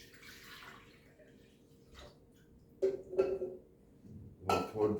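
Fresh orange juice being poured into a container for a mango smoothie, with short bursts of splashing liquid and light clinks of kitchenware against a quiet background, close by.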